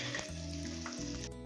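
Eggs frying in a pan with pepper and turmeric, a steady close sizzle with a faint stir or scrape near the end.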